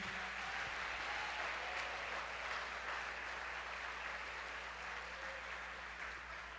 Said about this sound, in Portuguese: vamos aplaudir a Jesus mais forte.